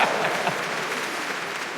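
Steady crowd applause and cheering from a stand-up comedy audience, dense, continuous and fairly loud, with no voice standing out above it.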